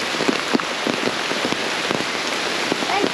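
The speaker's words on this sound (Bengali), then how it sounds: "বৃষ্টি এই যে চারপাশ বৃষ্টিময় হয়ে গেছে দেখেন।" Steady rain pours down all around an outdoor spot, a dense continuous hiss of drops hitting surfaces with scattered louder splashes, close and even throughout.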